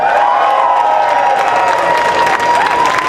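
A large crowd cheering at a Justin Trudeau election rally in Malton, Mississauga, a loud sustained roar of voices and shouts with a high tonal whine running through it.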